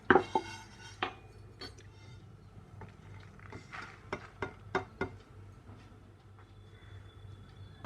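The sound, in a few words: dry-roasting cumin and fenugreek seeds in a pan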